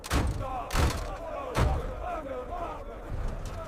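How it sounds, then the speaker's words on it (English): An arrow slamming into a shield amid an ancient Greek battle at Marathon: three heavy, close thuds spaced roughly every 0.7 seconds, each a sharp impact with a short ringing tail, over a constant dense background roar. "One arrow slams into your shield"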